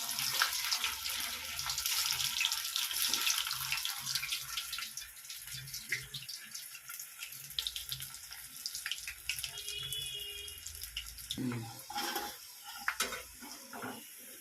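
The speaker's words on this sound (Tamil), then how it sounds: "கடலை எண்ணெய் அப்படியே பொங்குது" Peanut oil bubbling steadily while cauliflower pakoda fries, a continuous watery hiss and crackle with brief clinks of utensils, close and fairly even throughout, no talking.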